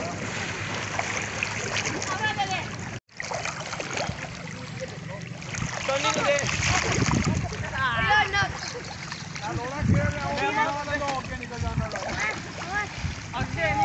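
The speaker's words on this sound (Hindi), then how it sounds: "मैंने डिसाइड किया कि नहर में जा कर नहाते हैं।" Cold canal water splashes and churns around a swimmer on a very hot day, a steady close wash of water heard beneath people talking.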